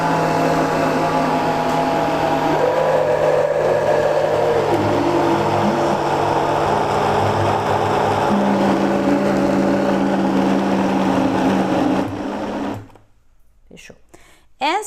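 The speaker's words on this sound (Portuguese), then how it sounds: "Banana no liquidificador" A kitchen blender whirs as it purees green bananas with water, a steady loud motor drone with shifting pitch for about twelve seconds before it abruptly stops, leaving near silence and a brief sound at the end.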